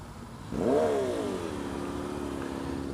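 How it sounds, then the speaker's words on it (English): A Suzuki Hayabusa motorcycle in city traffic revs up sharply close by, its engine note climbing then easing into a steady, throaty drone that holds to the end. "Got Hayabusa in the wild right there."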